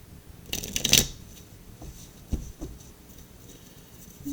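Tarot cards riffle in a short, brisk shuffle up close, followed by a few softer taps and slides of the deck on a surface.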